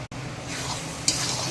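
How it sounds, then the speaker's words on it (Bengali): Ground spice masala of turmeric, pepper, cumin, Kashmiri chilli and salt sautéing in a pan for mutton curry, a close sizzle with stirring scrapes and a brief utensil clink. "মশলাটা কষা হচ্ছে।"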